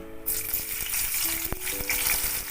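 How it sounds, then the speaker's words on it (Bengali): Onions frying in hot oil left in the pan after browning salted, turmeric-rubbed chicken, giving a steady close sizzle with faint stirring scrapes and no talking. "সেই তেলটার মধ্যে আমি একটু পেঁয়াজ দিয়ে দিলাম"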